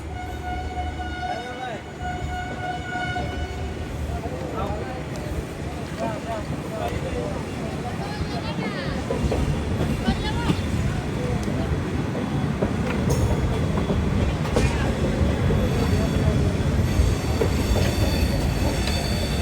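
A train stands ready on a railway line in India, on a long Vivek Express journey near a diesel locomotive, with steady loud rail rumble and hum that rise toward the end, and people talking over it.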